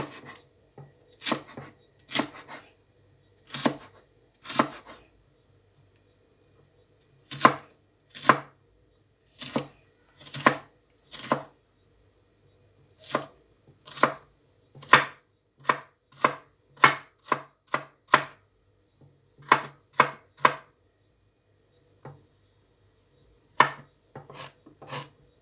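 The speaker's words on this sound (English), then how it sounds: "I will be cutting up 1 large carrot, and I will cut it in small pieces" A knife chops a large carrot into small pieces on a board, crisp separate knocks coming in irregular bursts and single strokes with short pauses between them, close and clear with no voices.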